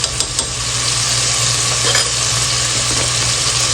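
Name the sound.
stirring chicken keema with red chilli and turmeric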